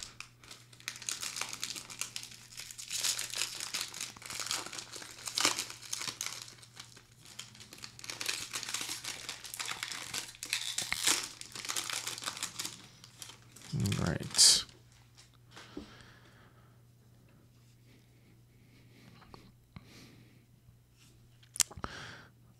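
Crinkling, crackling foil wrappers of 2024 Topps Series 1 baseball card packs handled and torn open at close range, in bursts with a sharp tear partway through, while a person talks at intervals.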